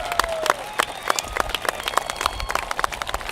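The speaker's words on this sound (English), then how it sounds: "I need you guys to stand up and you got to cheer these people" A graduation crowd standing to applaud and cheer their families, a dense burst of clapping with scattered whoops and shouts filling the hall, fairly loud and close.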